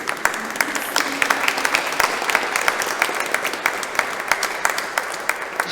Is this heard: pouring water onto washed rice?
no